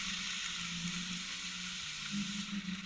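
Roast beef sears in a hot pan, a steady, close crackling sizzle that keeps on evenly for a few seconds with no talk.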